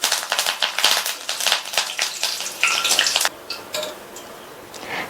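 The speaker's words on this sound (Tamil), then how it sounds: "கடைசியா அதே எண்ணெயிலேயே கிளீன் பண்ண ஃப்ரெஷ்ஷான கறிவேப்பிலை இலைகளை சேர்த்துட்டு நல்லா மொறுன்னு வறுத்துக்கலாம்." Fresh curry leaves crackle and sizzle as they fry in hot oil, a bright, busy spattering that is loud at first and then thins to sparse pops, with no talk.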